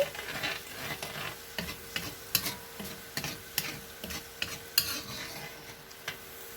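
Butter chicken sauce simmering in a pan with a soft continuous sizzle, as a spoon stirs it in repeated scraping strokes with light clicks against the pan, close and fairly quiet, with no talking.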